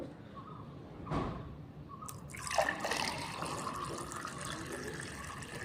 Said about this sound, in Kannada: ಇದಕ್ಕೆ ನಾನು ಇನ್ನೊಂದು ಸ್ವಲ್ಪ ನೀರನ್ನ ಹಾಕ್ತಾ ಇದ್ದೀನಿ